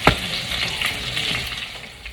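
Plant-based vegan meatballs sizzling in hot grease in a pan, a steady loud crackling fry with bubbling that stays even throughout, no talking.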